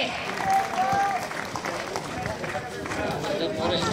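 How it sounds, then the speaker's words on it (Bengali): A crowd at an outdoor company picnic award ceremony claps for an award recipient. The applause is a dense, sustained patter that comes through alongside voices and crowd noise. "আলামিন তালুকদার নকিব ভাইয়ের জন্য একটু জোরে হাততালি দেই আমরা।"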